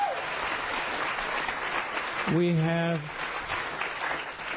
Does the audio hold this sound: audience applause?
yes